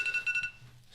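A personal rape alarm goes off, several quick shrill beeps in a rapid pulsing burst that stops after half a second, faint and close.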